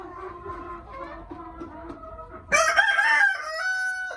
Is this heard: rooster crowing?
yes